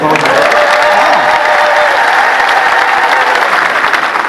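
Sustained applause from a church congregation, steady and dense throughout, with a voice briefly heard over it early on.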